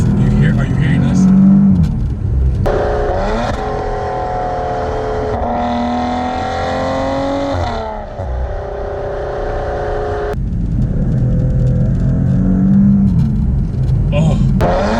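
Maserati Quattroporte Granlusso S in manual mode, engine revving and accelerating through the gears from inside the cabin, rising and falling drone with shifts, loud and continuous, with someone talking over it at times.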